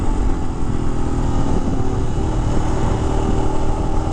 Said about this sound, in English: single cylinder bike definitely has the thumper feel